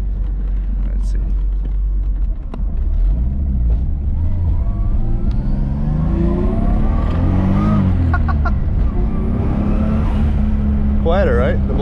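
A Lexus GS300 engine with a Tomei MX8280 upgrade revs up hard with a rising roar, then sharp hissing puffs from the blow-off valve as the revs drop, close and loud throughout.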